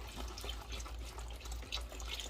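A steady, quiet stream of water runs and splashes continuously into a pot for cooking beans and ham, with a faint low hum underneath and no talk.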